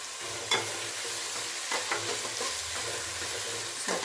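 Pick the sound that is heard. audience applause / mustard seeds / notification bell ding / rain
mustard seeds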